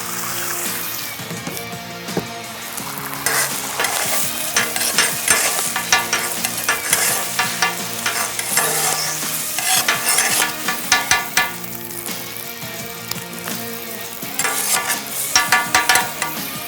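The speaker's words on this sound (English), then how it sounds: "Eggs are done really quick too. Get a nice scramble." Eggs scramble in a frying pan with a steady sizzle, overlaid by repeated scraping and stirring strokes throughout, loud and close with no talking.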